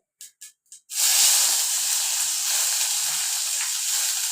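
Crushed ginger and garlic tipped into a hot pan for kappa, a few short taps and then a loud, steady sizzle that hisses on without let-up.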